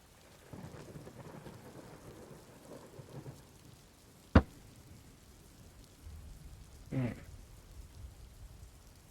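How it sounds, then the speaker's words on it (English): A thunderstorm with soft steady rain, one sharp close thunder crack mid-way and a rumbling roll of thunder later, over a quiet patter. "I feel like the thunderstorm is let up"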